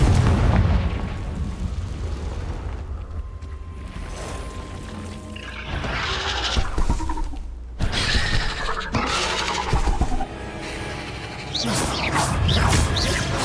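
Confringo blasting spells burst with loud explosive booms and shattering crashes in an Acromantula cave in Hogwarts Legacy, several impacts spread across the stretch with debris rumbling between them.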